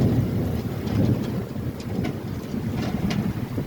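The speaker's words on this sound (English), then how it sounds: "You can see the rain is practically blowing sideways." Heavy wind-driven storm rain pours in a dense, steady rush, with occasional splashes and gusts standing out, close and continuous.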